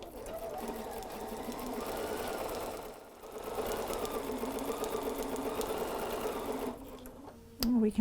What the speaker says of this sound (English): let's just jump right over to that sewing machine, a 1/4 inch seam allowance